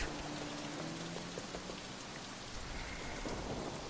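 Steady rain pouring down with a low rumble of thunder in the open-world game Sleeping Dogs, a constant hiss with no voices.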